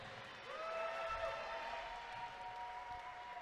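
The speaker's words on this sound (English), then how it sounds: "let's get a big round of applause to Wild Billy Buck" A modest crowd at an independent wrestling show applauds an injured wrestler, a soft, distant wash of clapping and crowd murmur under a faint ringing tone.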